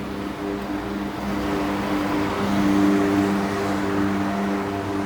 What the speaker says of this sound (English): More right-turning vehicles to deal with.